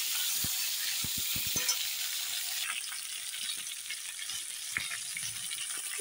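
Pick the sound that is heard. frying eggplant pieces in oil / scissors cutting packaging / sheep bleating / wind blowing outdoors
frying eggplant pieces in oil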